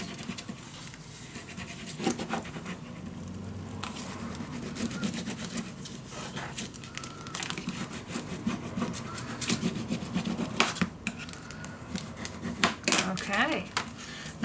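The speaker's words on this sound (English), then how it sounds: "now I definitely need to burnish this all down so everything will be on its place" Paper being burnished down by hand on a handmade mini album kept in a storage box, a steady rubbing and scraping that runs throughout at close range, with occasional sharper scratches and taps.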